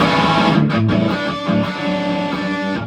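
Electric guitar with a drive pedal played through a Marshall amp, a thick distorted tone ringing steadily with a few brief strummed breaks, close and loud with no talk.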